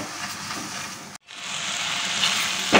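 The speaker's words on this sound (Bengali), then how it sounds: "আমি ভালো করে দইয়ের সঙ্গে মশলাটা মিশিয়ে কষিয়ে নিচ্ছি" Yogurt and spice masala sizzles in a pan while being stirred for cauliflower korma, a steady close hiss with a brief break partway through, then resuming louder.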